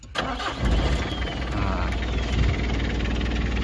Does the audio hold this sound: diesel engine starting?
yes